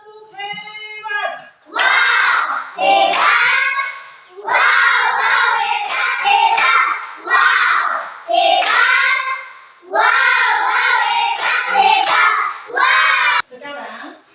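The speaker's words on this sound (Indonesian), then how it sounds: "Mari kita tepuk semangat." A group of people, apparently a classroom, claps out a rhythmic cheer in repeated bursts of patterned hand claps with short pauses between them. Voices chant and call along with the clapping, loud and close throughout.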